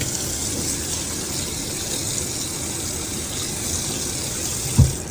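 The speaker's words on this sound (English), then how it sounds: "So I'm gonna drain the blood into my sink." Lamb blood draining into a kitchen sink, a steady close rushing flow of liquid that stays even throughout, with a brief knock near the end and no talking.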